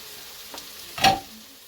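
Fried rice stirred in a pan for an egg roll and fried rice meal, giving a brief scrape and sizzle burst near the end, with a fainter stir just before, close and alone.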